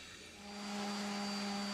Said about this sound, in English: use the little drum sander wheel to take off the sharp edges of the arches